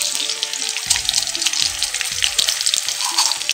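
Panch phoron spices dropped into hot oil, a close, bright crackling sizzle with sharp pops and spits, interspersed with a few clinks and scrapes of utensils.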